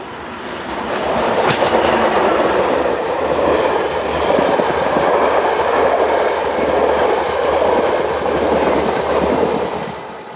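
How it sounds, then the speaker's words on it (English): Locomotive 101 964 hauls a Golden Pass narrow-gauge service toward Interlaken through Meiringen, giving a loud, steady rolling rumble with faint clicking of wheels on rail joints throughout. "We now move to Meiringen as 101964 heads a Golden Pass service for Interlaken."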